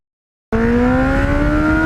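A 35-year-old green Ninja motorcycle engine starts up abruptly and holds a steady, loud, rising whine as it accelerates through the gears on a back road, with no voices.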